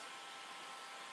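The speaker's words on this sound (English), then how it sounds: "With the heat gun, what I'm doing at the moment," Heat gun blowing hot air onto plastic trim, a steady, even hiss-like roar heard alone, brief and fairly quiet.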